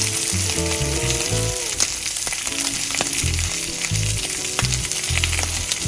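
Ahi tuna frying with garlic and rosemary in shoyu, Hawaiian style, a loud constant sizzle with light clinks, under a steady tonal musical background, and no talk.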